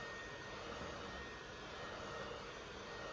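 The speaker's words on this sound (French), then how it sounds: "Notre pistolet air chaud" Hot air gun set to 100 degrees blowing steadily while heating the screen of an iPhone 11 Pro, a faint, constant airy whoosh and fan hum with no changes and no speech.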